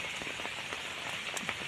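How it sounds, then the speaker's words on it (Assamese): Heavy rain falls steadily near a river, a dense even hiss of drops striking surfaces with a few sharper close splatters, continuous and moderately loud with no voices. "বৰষুণ খুবকৈ পৰি আছে"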